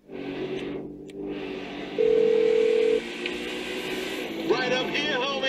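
Phone dialing tones on a speakerphone inside the video game GTA V, a held electronic tone and short beeps playing over engine hum and background game sound.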